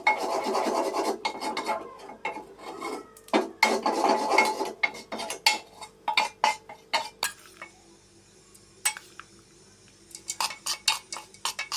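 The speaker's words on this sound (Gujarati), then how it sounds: "જો આવી રીતે શેકવાનું, એકદમ હલાવતું જ જવાનું" Bitter gourd and potato roasting in a pan over low heat are stirred continuously with a metal spoon, making close scraping and rasping strokes that thin into separate scratches and taps, then pick up again.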